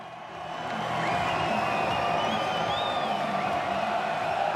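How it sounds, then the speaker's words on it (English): At a STIHL Timbersports team world championship, a large arena crowd cheers and whoops after France eliminates Belgium, the roar swelling in quickly and holding steady and loud. "Crowd is loving that result."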